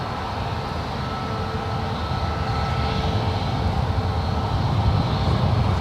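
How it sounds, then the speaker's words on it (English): A British Airways Boeing 777-300ER taxis toward the runway at San Francisco International, its engines a steady, loud broadband roar that swells slightly as it passes, with no voices over it. "the British Airways 777-300ER heading back to London will be making her way over to the 28s"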